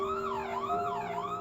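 A police car siren wails, its pitch rising and falling in smooth repeating sweeps, loud and continuous with nothing else audible.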